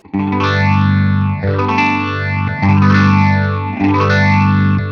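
Electric guitar chords ring out through an analog amplifier with a sweeping, swirling modulation effect, sustained and loud, three strums in a slow rhythm.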